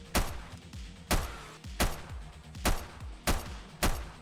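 Gunfire in the video game 7 Days To Die, with six sharp, loud shots spaced roughly half a second to a second apart, each cracking out with a short booming tail and no talk over them.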